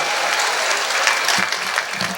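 Enthusiastic audience applause at a mushaira poetry gathering in Ghazipur; dense, loud clapping that continues unbroken through the whole short span.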